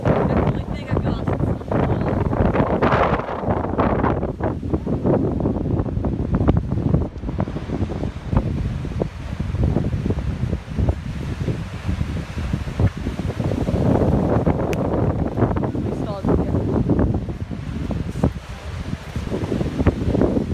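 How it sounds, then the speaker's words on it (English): Storm Isha in the UK and Ireland brings strong gusts near 20 miles per hour, roaring and buffeting the microphone in surges, loud and close, while someone talks intermittently over the wind. "There's definitely some slightly stronger gusts, close to 20 miles per hour"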